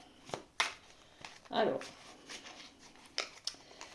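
Oracle cards being handled and laid out: brief papery flicks and slides, one longer shuffling swish in the middle, close and quiet, with a faint voice in the background.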